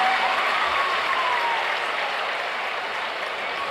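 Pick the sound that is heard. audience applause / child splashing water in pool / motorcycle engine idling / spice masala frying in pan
audience applause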